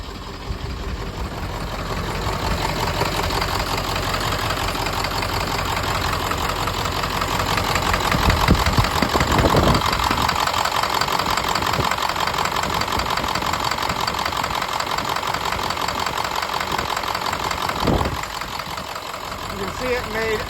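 A Ford 7.3L diesel engine idles with a steady, rough, clattering knock close by, continuous throughout with a couple of brief louder thumps, while someone talks over it.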